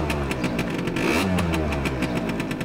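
Heavy motorcycle engine, a Harley-Davidson Road King with a fuel-injected Twin Cam 88, rumbles close by and rises in a rev midway before settling back to a throbbing idle.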